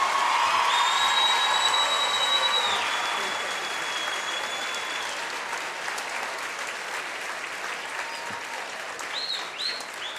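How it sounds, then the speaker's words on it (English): Crowd applause and cheering at a high school softball state championship in Ohio, loud at first and gradually easing, with a whistle-like tone early on and scattered shouts near the end. "Let's give both these teams a great big round of applause."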